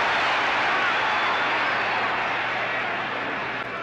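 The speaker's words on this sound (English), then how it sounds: "Folley has brought the crowd up with those punches" A boxing arena crowd roars and cheers continuously as Zora Folley lands punches against Muhammad Ali, a dense, sustained wash of noise that stays loud and easing slightly near the end.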